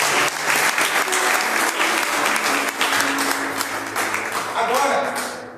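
A church congregation breaks into loud, vigorous applause, many hands clapping densely and close, with cheering voices mixed in, then fading at the very end.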